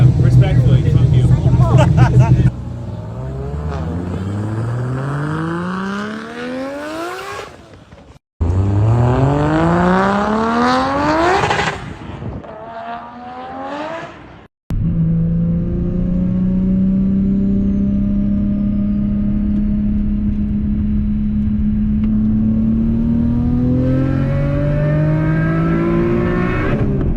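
A Nissan Silvia with a swapped RB25DET turbo engine revving on a dyno, loud close engine pulls that climb steeply in pitch, cut off sharply, then repeat before settling into a long, gradually rising run.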